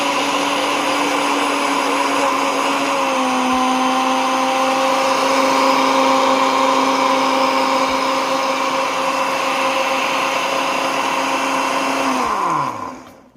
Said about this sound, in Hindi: इसको चलाएंगे अच्छे से, इसको करेंगे ग्राइंड 1 2 3